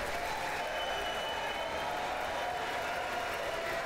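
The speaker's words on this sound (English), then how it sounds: "all these people clapping though" Sustained applause from the members of the US Congress in the chamber after Netanyahu's speech, a dense, even wash of many hands clapping at a distance, with no breaks.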